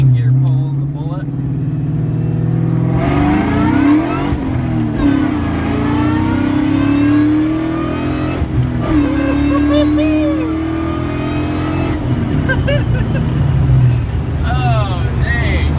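A 2001 Ford Mustang Bullitt pulls hard in second gear, its V8 roar climbing steadily in pitch and loudness from inside the car, with occasional voices over the engine.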